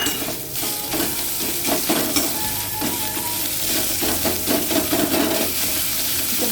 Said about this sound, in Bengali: ভালো করে কষিয়ে নিলাম।